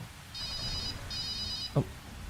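A cellphone rings twice in short electronic trill bursts with a brief gap, moderately loud over a quiet room, followed by a single soft knock or tap.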